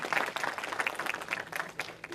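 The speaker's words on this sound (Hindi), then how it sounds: "मैं चाहता हूँ एक बार आप उर्दू प्रेस क्लब इंटरनेशनल के लिए ज़ोरदार तालियां बजाएं" Audience clapping at an Urdu Press Club International gathering, scattered, uneven claps from a modest crowd, fairly quiet, with a voice speaking over part of it.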